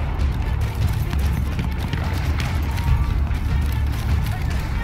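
A horse galloping in Battlefield 1, with a steady, rapid drumming of hooves close and loud over rumbling battlefield background.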